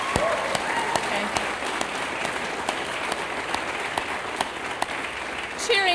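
An audience applauds at an academic convocation, with a sustained wash of clapping from a crowd in a hall and a few sharper individual claps standing out.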